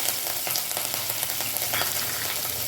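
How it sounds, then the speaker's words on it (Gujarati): Cumin seeds and curry leaves crackle in hot oil in a kadhai, a dense, loud, unbroken sizzle with rapid pops throughout, close and without speech. "હવે આપણે કઢાઈમાં મેં તેલ નાખી દીધું છે। હવે આપણે નાખશું જીરું,"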